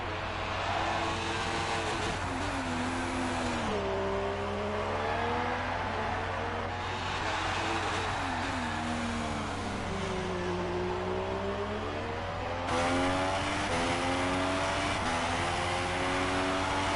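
Race cars from a US Grand Prix round of a racing game give a continuous engine whine that rises and falls in pitch as the cars shift and accelerate. It is steady and fairly loud, with no talk over it.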